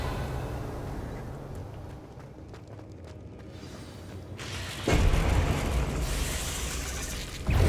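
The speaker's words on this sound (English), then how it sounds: "Revelio" A Revelio spell cast in Hogwarts Legacy: a quiet ambient stretch gives way to a sudden loud whooshing, rumbling burst that swells and holds as a bright shimmering wash.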